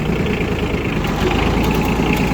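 A Yanmar F155 Japanese mini tractor with a 15 hp three-cylinder diesel runs at a steady idle. Its low, even rumble is loud and continuous, with no voices.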